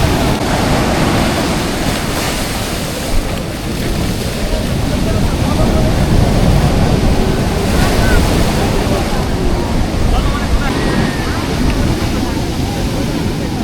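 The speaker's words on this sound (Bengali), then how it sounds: "এখানে বিশাল বড় বড় ঢেউ" Large sea waves break on the beach at Puri, a loud, continuous roar of surf churning against the shore, mixed with heavy wind buffeting the microphone throughout.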